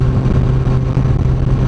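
A 2016 Honda CBR1000RR Fireblade SP with Öhlins suspension and an aftermarket exhaust, its engine held at a steady, loud, close hum while revving, with no voices.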